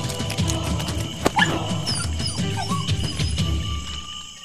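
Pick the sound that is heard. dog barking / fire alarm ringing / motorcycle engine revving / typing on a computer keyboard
dog barking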